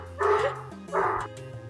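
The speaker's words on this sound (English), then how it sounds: "Don't mind my dogs. You know, doing as dogs do." Dogs barking and whimpering nearby in two short bursts, with a gap and a faint tail of whining between and after.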